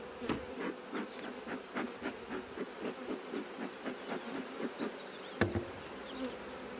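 Steady buzzing of many honey bees in rain during rapeseed bloom, a dense droning hum with individual insects passing close, continuous and fairly faint.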